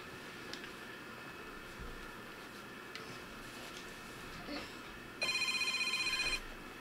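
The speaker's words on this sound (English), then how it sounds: "Phone ringing." A telephone rings in the narrative video game Broken Mind, one short burst of electronic ringing near the end over a quiet, hissy background with faint scattered clicks.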